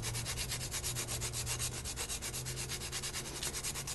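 Fresh nutmeg is rubbed across a small nutmeg grater in quick, even back-and-forth strokes, a quiet, close scraping rhythm with no voices.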